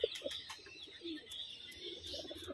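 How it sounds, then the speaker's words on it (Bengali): An adult Shakhi Teddy pigeon coos softly and faintly in a few low, rounded bursts against a quiet indoor background with faint high chirps. "খুব সুন্দর একটা স্টাইলের পায়রা"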